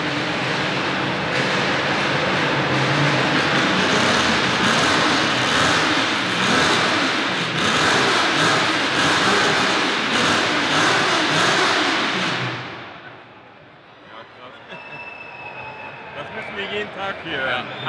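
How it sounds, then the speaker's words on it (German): Loud, sustained revving of a sports car engine at the Essen Motor Show, a Lamborghini Countach homage on display, roaring steadily for about twelve seconds before cutting off abruptly into quieter hall noise. "wir selber machen auch gerne die Motoren an"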